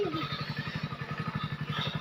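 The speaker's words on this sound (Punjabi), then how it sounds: "ਮੈਂ ਆ ਗਿਆ ਮੋਟਰਸਾਈਕਲ ਲੈ ਕੇ" A motorcycle engine idles close by with a fast, even, throbbing pulse that holds steady throughout.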